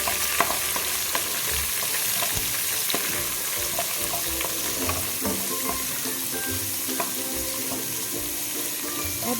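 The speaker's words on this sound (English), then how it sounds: "Now stir fry it for another 2 minutes till all the aroma is well released in the oil." Garlic and curry leaves stir-fry in hot oil with a steady, continuous sizzle, punctuated by a spatula scraping and clinking against the pan, close up with no talking.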